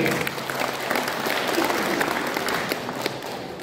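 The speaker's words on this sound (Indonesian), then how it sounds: "Tepuk tangan mungkin." Audience at a Balinese Hindu religious training session applauds, a broad, steady rattle of many hands clapping together, moderately loud and sustained, with a few sharper claps poking through.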